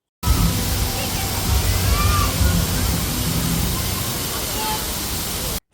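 An artificial waterfall at Sky Falls in Lulu Mall, Calicut, a loud continuous rushing roar of falling water that fills the whole stretch at close range.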